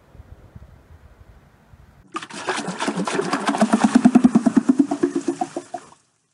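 Water rushing down a flume tilted at 5 degrees, about 20 liters released at once in a hydroelectric demonstration, a sudden loud broadband gush that starts abruptly after quiet, builds, then cuts off as it drains.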